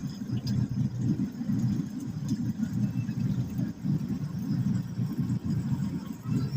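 Congested city street traffic near the EDSA corner by 5th Street, with a steady close-up rumble of idling and creeping engines that swells and dips with no clear breaks.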